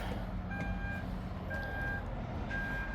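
The power trunk of a 2025 BMW M8 Competition closes hands-free, giving three evenly spaced electronic warning beeps about a second apart over a low background hum.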